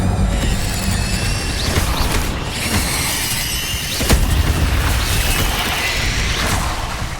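Incendio fire spell cast in Hogwarts Legacy, heard as a burst of whooshing, crackling blasts with sharp impacts, loud and layered over game ambience, no voice.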